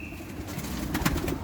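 Pigeons coo softly amid a busy outdoor background, with faint rustling and a few brief bird sounds.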